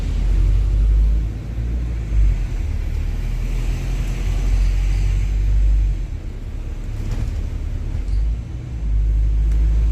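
Wright StreetDeck bus engine straining up a steep hill, a heavy low rumble with surges from two gearbox kickdowns, loud and close from inside the bus.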